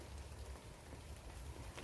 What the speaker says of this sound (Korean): 비가 꽤 여러 날 오네요.